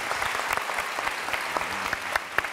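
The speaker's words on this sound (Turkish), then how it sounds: "Bu arada orkestraya da bir alkış alalım" Studio audience applause for the house orchestra on a Turkish TV talk show, a warm sustained clapping from a crowd, fairly close and loud, with a few sharper individual claps popping out of the steady wash.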